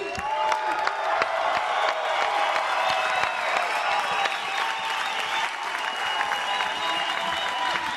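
A large crowd at a Metamoris 3 jiu-jitsu grappling event cheers, whoops and applauds continuously, a loud, dense roar of clapping and shouts that holds steady throughout.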